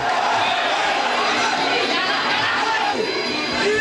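Dense crowd roar at a Muay Thai fight during the last round, a steady wash of many voices, loud and continuous throughout.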